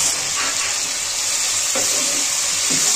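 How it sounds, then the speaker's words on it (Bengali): Water is poured from close by into a spice paste cooking in a pan for a Bengali crab and potato curry, a steady splashing wash with faint sizzling bursts underneath. "একটু জল দেবো মশলার মধ্যে।"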